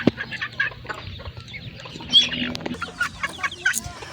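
Chickens cluck and murmur softly nearby, scattered calls over a quiet outdoor background, with an occasional louder squawk.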